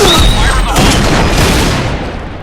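A Barrett M82A1 sniper rifle fires a single heavy, booming shot in the Point Blank video game, a loud close blast that fills the moment and rolls away into a fading echo.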